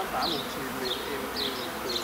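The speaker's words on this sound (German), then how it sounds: "Und die Bienen bilden sich jetzt ein, sie müssten zurück zur Brut und haben sich hier gesammelt." A swarm of honeybees, moved out of a tree trunk, gathers around a bucket of brood comb, making a dense, steady buzzing drone that stays close and constant throughout.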